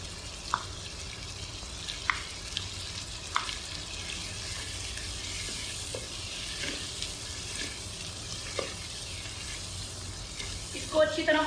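Green beef karahi frying in a pan with added cream and sabz masala, a steady low sizzle running throughout with a few soft stirring clicks and a louder scrape near the end.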